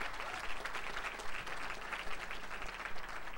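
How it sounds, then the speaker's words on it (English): Steady applause from a crowd at an evening awards gala, a dense wash of clapping with a low hum underneath, sustained and fairly loud throughout. "I would like to give a round of applause for everybody that put this together"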